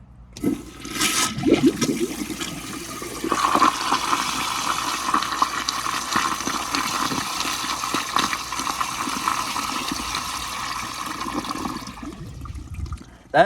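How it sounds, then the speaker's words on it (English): A forceful flushometer flush on a 2000 American Standard Colony toilet roars for about ten seconds with a rushing water whoosh, then cuts off and settles into quiet refilling. "it pretty much made it flush like a little bit more power than if it was on tank"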